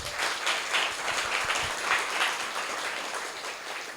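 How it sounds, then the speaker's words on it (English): An audience at a luncheon event gives a sustained round of applause, with dense, steady clapping that fills the whole stretch at an even level without dropping off. "Can you give them another round of applause?"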